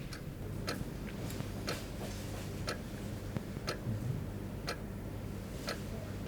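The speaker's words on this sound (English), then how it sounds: "there's a specific reason why they're using that precision chronometer, because it is ticking" A precision chronometer on a watchmaker's table ticks steadily at close range, each sharp tick evenly spaced over a faint background hiss, with no voices.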